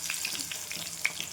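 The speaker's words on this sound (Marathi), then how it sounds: "छान क्रिस्पी होईपर्यंत आपल्याला तळून घ्यायचं आहे." Eggplant fritters (bhaji) frying in hot oil, a close, continuous soft sizzle with small crackles and pops.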